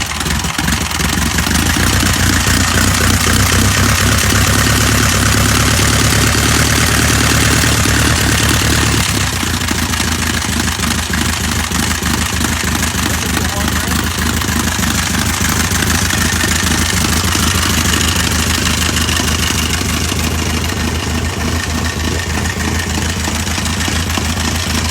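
1927 Henderson motorcycle engine firing up and settling into a loud, steady idle, a close, continuous rumbling beat that runs throughout with no talk.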